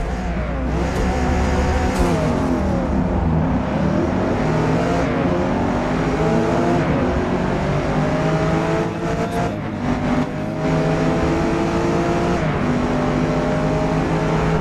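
Race car engine droning continuously in Forza Motorsport, loud and close throughout, with shifting revs, gear changes and accelerating pitch sweeps, plus brief tire noise.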